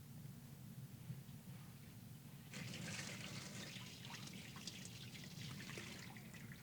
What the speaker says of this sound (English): he's going to pour the water in once again